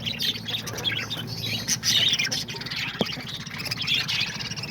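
Pet lovebirds, cockatiels, parakeets and diamond doves chirp and tweet continuously in an aviary, a busy layer of small bird calls over a low background rumble.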